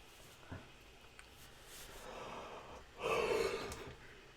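A person in a sports radio studio lets out a drawn-out, breathy yawn that swells and fades, after a softer intake of breath; quiet room, no talking.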